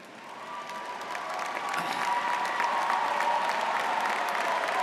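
Applause from the crowd at the Wichita State University 2017 fall commencement swells from moderate clapping into a dense, sustained ovation that fills the hall, with a faint cheer mixed in.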